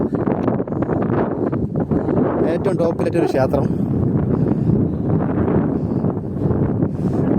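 Steady wind on a hilltop near Neyyar Dam buffets the microphone with a low rumble throughout, while a person talks over it close by.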